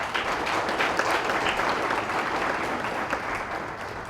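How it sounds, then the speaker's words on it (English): Sustained applause from a sizable crowd at an awards banquet, dense steady clapping that holds at an even level for several seconds with no talking. "Let's give them a round of applause."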